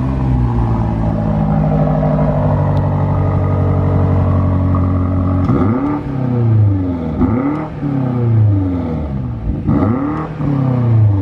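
A 2021 BMW M8 Competition coupe's 625 hp engine fires up with a loud steady idle, then revs sharply three times in quick bursts, close and alone with no talking.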